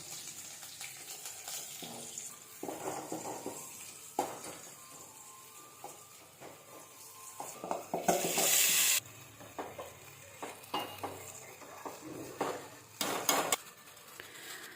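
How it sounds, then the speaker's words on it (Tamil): A pot of herbal water bubbling and simmering on the stove, with soft stirring scrapes and a few clinks of a utensil against metal. "நல்லா நமக்கு கொதிக்க ஆரம்பிச்சிருச்சு"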